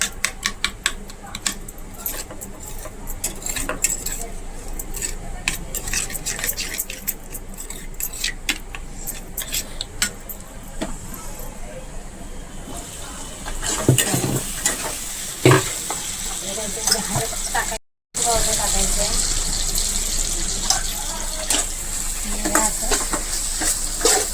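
A spoon stirring a curd gravy mixture in a bowl for okra fry, with repeated scraping and clinking strokes, busier and louder in the second half, with a brief dropout near the end.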